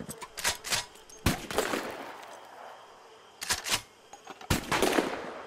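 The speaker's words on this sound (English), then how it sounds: "Notice the different sounds depending on shooting into the air, to the ground, and the direct impact on a nearby tree." Gunfire in a swamp in Red Dead Redemption II: sharp shots arrive in quick clusters and single cracks, each trailing off in a long, ringing echo that fades before the next burst.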